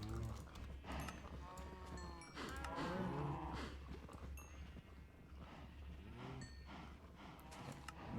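Game cattle in Minecraft mooing loudly and repeatedly, several overlapping bellowing calls over a steady low hum, dense and close throughout.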